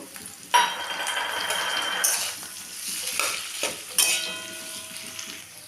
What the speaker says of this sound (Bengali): আলুটা আমি এখানে দিয়ে দেব। দিয়ে মিশিয়ে নেব।